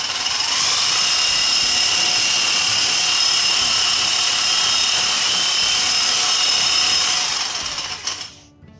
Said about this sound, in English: I've got it attached to the power drill now.